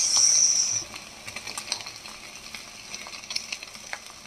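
An egg omelette frying in a pan, a loud steady sizzle at first that settles into softer crackling with scattered pops and light scraping, close up and without talk.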